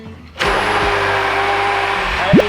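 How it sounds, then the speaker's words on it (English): Hand blender mixing vegan kimchi mayo from the bottom of a container, switching on abruptly and running as a loud, steady whirring hum close by, with a brief pitch change near the end. "now we take the hand blender and we go in on the bottom"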